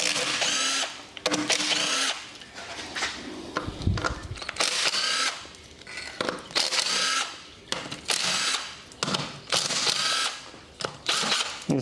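A ratchet works 13 mm bolts loose from a 4L60E transmission pan, with repeated bursts of clicking and metallic rattling close by, broken by short pauses.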